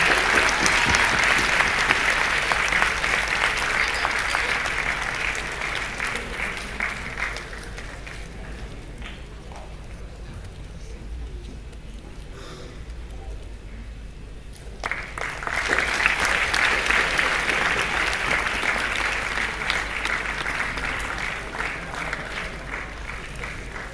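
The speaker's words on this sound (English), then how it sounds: "Guys, can we have a huge round of applause for the entire band?" Large student audience at a university applauds a band, loud continuous clapping that dips to a softer patter midway, then surges back strongly and carries on to the end.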